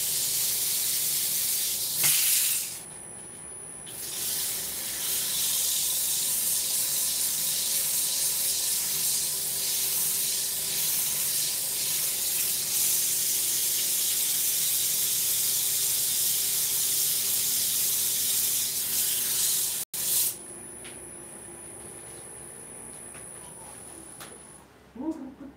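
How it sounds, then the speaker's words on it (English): Steady hissing abrasion of sandpaper against a soft wood fruit bowl spinning on a woodturning lathe, continuous and fairly loud for most of the span, with a brief pause near the start and a break near the end. "Start sanding it."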